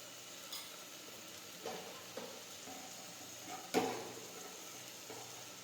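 Cumin seeds sizzling in hot oil for a ridge gourd sabji: a faint, steady crackling hiss broken by a few soft stirring scrapes and one sharper clink, with no voices.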